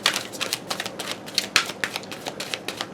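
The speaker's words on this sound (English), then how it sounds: "We'll do, let's say, 2 more shuffles." Tarot cards are shuffled by hand at close range, making a quick run of crisp riffling clicks and soft slaps in irregular bursts, with no talking.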